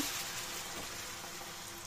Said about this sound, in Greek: Θα ρίξουμε λίγο νεράκι.